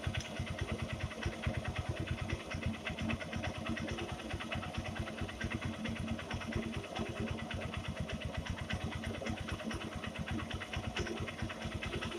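Honda Shine SP 2019 motorcycle engine running steadily after carburetor adjustment, a close, even mid-pitched idle chugging with fast regular pulses and little change in level.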